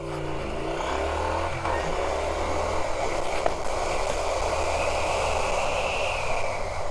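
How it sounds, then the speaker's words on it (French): A Triumph Street Twin A2 2021 motorcycle pulls away in first gear, its engine note rising steadily as it accelerates, with wind rush and road noise building around it and no talk over it. "On passe la première, on accélère et on y va."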